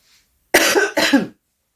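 A person coughs twice in close succession, two sharp, loud, rough bursts up close, followed by silence.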